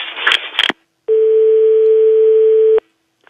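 A steady telephone dial tone on a call, sounding alone for under two seconds after a brief burst of noisy line sound.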